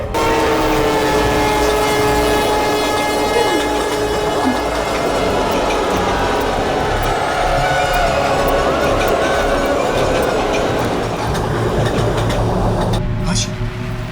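A train rumbles along steadily for the whole stretch, loud and continuous with a metallic hum and rattle, a brief squeal near the end, and voices faintly mixed in beneath.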